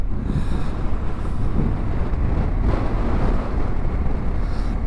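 Strong wind buffets the microphone at a rough coastal spot, a loud continuous roar of gusts mixed with the wash of a heavy sea, constant throughout with no talk.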